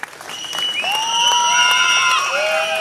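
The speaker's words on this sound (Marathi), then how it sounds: "टाळ्या वाजवा यांच्यासाठी" Applause from an audience at a BJP political gathering in Jat, steady and broad throughout, with a few whistle-like tones and crowd voices rising over the clapping.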